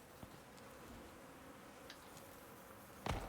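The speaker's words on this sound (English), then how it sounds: "I hear bees." Bees buzzing near a beehive in the survival video game Icarus, a faint, steady insect hum under quiet ambience, with a sharper click-like burst near the end.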